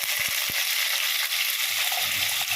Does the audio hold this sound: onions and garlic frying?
yes